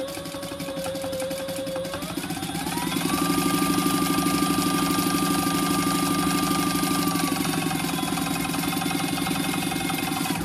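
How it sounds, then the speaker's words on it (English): A sewing machine runs a chain stitch through fleece, a steady continuous motor whir with a rapid mechanical rattle, its pitch rising partway through and holding as it keeps running close by. "I'm just gonna do a chain stitch."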